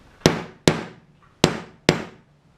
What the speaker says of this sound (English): Go ahead and beat the ends where the carriage bolts square, meeting your round hole.